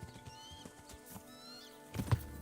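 A horse in the medieval video game Kingdom Come: Deliverance neighs in two bright whinnies with hoof clops between, followed by a louder snort-like burst near the end.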